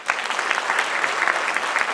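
Audience applause at an awards ceremony, steady dense clapping from a crowd that stays even and fairly loud for the whole two seconds with no voices over it.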